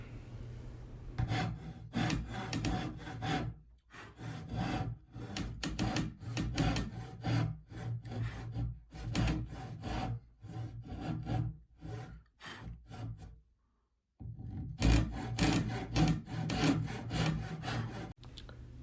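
Rhythmic back-and-forth strokes of a hand saw cutting through wood, steady and close, with a brief pause before the sawing resumes.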